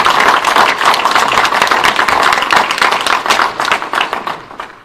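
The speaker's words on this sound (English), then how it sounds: "Give another round of applause" A large audience at a Human Rights Campaign political endorsement event claps loudly and steadily, a dense wash of applause lasting throughout.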